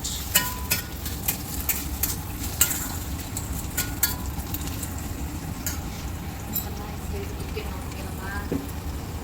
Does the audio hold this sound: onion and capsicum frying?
yes